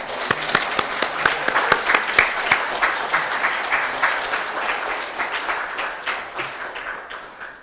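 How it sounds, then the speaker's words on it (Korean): An audience at a public lecture in Songpa welcomes a guest speaker with applause: a few sharp, separate claps at first, then fuller crowd clapping that gradually softens and tapers off. "큰 박수 부탁드립니다."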